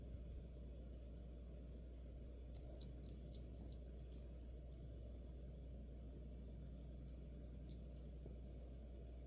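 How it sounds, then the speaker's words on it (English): A car engine in the battle-royale shooter PlayerUnknown's Battlegrounds gives off a low, steady rumble, faint and distant, unbroken for several seconds with no voices. "Sounds like somebody's in a car."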